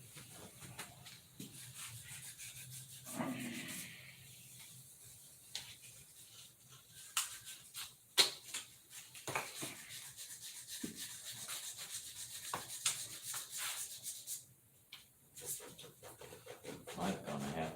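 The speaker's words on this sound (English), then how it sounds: "Enough to where I'm having it sanded." Paint peeling off a spinner being sanded by hand, with irregular rubbing, scraping strokes that come in bursts with short pauses between them and are moderately close but fairly quiet.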